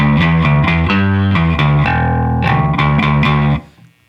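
Electric guitar played through a Barber Electronics Gain Changer overdrive pedal, strummed rhythmically and loudly with a fizzy, saturated edge, then a held chord before the sound cuts off and rings out into near silence.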